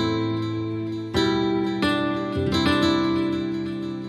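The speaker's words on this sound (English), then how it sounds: "And next I introduce this nylon guitar." A sampled nylon-string guitar, played from a MIDI keyboard, carries a melody with harmony. Sustained notes ring out alone, with a few sharper strummed chords.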